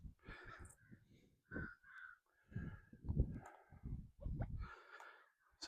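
Several crows caw outdoors in a quick back-and-forth series of harsh calls, close and fairly clear, with short pauses between bursts and no talking.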